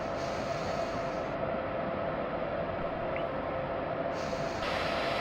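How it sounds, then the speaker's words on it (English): Video-game BR189 electric locomotives running double-headed with a container freight on the Hamburg–Hanover line in Train Simulator 2015: a continuous, even rumble and hum of the moving train, with no talking. "So we're driving the 189 double header on a container freight."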